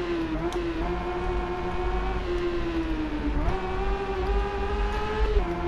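Honda CB650F naked motorcycle engine in the RIDE racing game, droning steadily at high revs with small pitch shifts and upshift dips, continuous and close with no talking.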